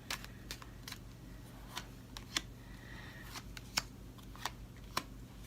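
Tarot cards are shuffled and drawn in a string of faint, sharp clicks and flicks spaced irregularly over a quiet, steady background hum.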